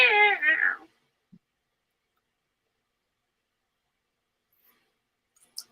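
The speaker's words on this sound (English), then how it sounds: "Cat fight." A single short cat meow, close and clear at the start, followed by near silence with a couple of tiny faint clicks.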